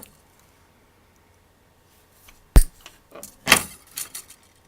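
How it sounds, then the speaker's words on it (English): Excess wire snipped off after wrapping around a ceramic pendant, two sharp close clicks of the cutters followed by small metallic fiddling sounds, otherwise quiet. "I'm going to wrap it around one more time and cut the excess off."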